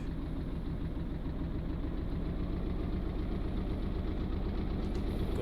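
A ship's engine in the sea-trial game Stormworks, on the Pallas Mk II vessel, revs slowly and steadily, a loud continuous low rumble with a knocking pulse that holds throughout.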